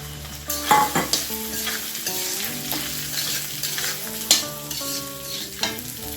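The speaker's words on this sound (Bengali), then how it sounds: "মুগ ডাল দিয়ে আমি মুগ ডালগুলো এই ফোড়নের সাথেই ভেজে নেব।" Drained moong dal being stirred and fried in hot oil with tempered spices for khichuri, with a close sizzle broken by repeated scraping spatula strokes and metallic clinks against the pan, and no speech.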